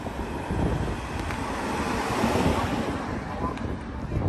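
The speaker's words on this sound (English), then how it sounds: "See, we have a slight wind." Wind blows steadily across Apparition Hill in Medjugorje, a broad continuous rushing with gusty swells and buffeting on the microphone, fairly close and moderate in level, with no clear talk over it.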